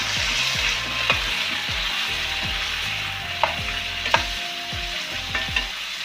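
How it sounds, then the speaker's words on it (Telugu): Tomato pieces being stirred into frying bombay rava upma, with a steady sizzle under repeated scraping strokes of a spoon in the pan and a few sharper clinks. "అలాగే టమాటా ముక్కలు కూడా వేసుకున్నాం ఇట్లా బాగా కలిపిద్దాము"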